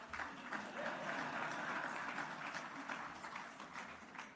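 A conference audience at the Jamaica Stock Exchange applauding steadily, a dense wash of many hands clapping at once, sustained and fairly loud throughout.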